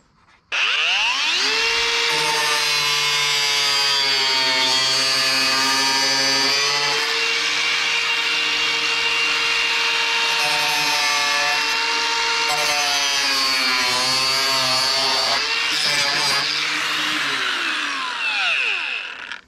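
A power saw cuts a car bodywork part, whining loudly and continuously with a rising and falling pitch for almost twenty seconds, heard alone and close.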